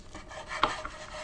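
A kitchen knife slices through a homemade sushi roll with one short, soft cut and a faint scrape, close and quiet.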